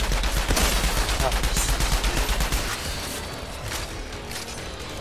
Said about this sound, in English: This is a light heavy machine gun.